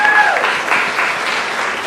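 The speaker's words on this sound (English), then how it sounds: "Can I get a huge round of applause for them?" An audience at a stand-up comedy show bursts into loud, sustained applause that continues evenly for a couple of seconds after a brief tone at the start.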